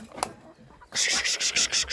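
Grain is poured out for turkeys along with three kinds of grain — wheat, corn and oats — plus pellets: a rapid run of rustling, scattering bursts starts halfway through, close and fairly loud, after a quieter stretch with one short knock.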